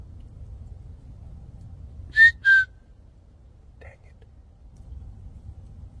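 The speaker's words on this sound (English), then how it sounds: "That was a whistle." Two short, sharp whistle blasts sound outdoors at night over a low rumbling background, followed by a much fainter, distant tone a moment later.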